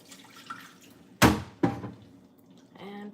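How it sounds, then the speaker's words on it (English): Cooking water from a butter chicken pot poured into a kitchen sink, two loud splashing bursts close by, followed by a brief running-water sound. "I don't think we need this water anymore, so I'm gonna discard it"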